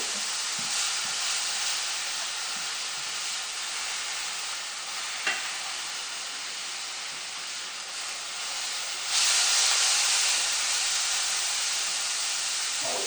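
Ground beef sizzles and hisses steadily in a hot pan while making Polish golabki stuffed cabbage, with occasional stirring clicks and a louder burst of frying near the end.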